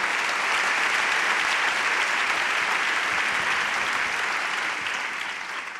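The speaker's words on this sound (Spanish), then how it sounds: "Poden aplaudir." An audience at the SuperArte 2021 gala in Barcelona claps in dense, steady applause that fills the hall, then begins to fade toward the end.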